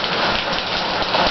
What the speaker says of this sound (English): you can probably hear the sound of the pouring rain